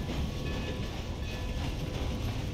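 A train in a video game rumbles along in a dense, steady, loud roar with no pauses or breaks, heard close and with no talk over it.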